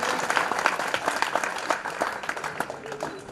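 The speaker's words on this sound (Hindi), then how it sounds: "हमारे गांव से जोरदार तालियों से स्वागत करें" Audience applause at a village poetry gathering, a dense burst of many hands clapping at a moderate distance, steady throughout.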